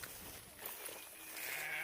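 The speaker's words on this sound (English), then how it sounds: "I'm gonna come move y'all sheep." Sheep bleating on a farm near fenced pasture with tall grass, a fairly faint, drawn-out call heard over steady outdoor background noise with no talk.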